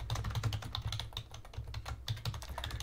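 Rapid keystrokes on a computer keyboard, entering text into a Markdown cell in Jupyter Lab, with an uneven rhythm of close, crisp clicks and no talking.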